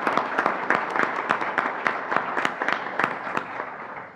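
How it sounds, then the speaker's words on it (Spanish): At a closing ceremony, a modest audience claps in a steady, fairly even rhythm for about four seconds. The individual claps stand out distinctly at moderate loudness, with no talking over them. "Así que también un aplauso para ellos."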